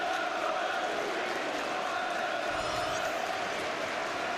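Broad stadium crowd wash at a Premier League derby, Birmingham City against Aston Villa, with steady, loud applause and crowd noise from Villa fans as an injured player is carried off.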